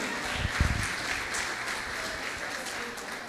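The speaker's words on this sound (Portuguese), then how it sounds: "Você pode aplaudir ao Senhor Jesus?" Church congregation applauding during a Portuguese-language sermon, a steady broadband clatter of many hands held at an even level throughout, with a brief louder thump near the start.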